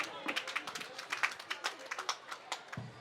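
Scattered audience clapping at a school culture day talk show, with uneven individual claps rising and falling over a few seconds, moderately close, without a full sustained roar.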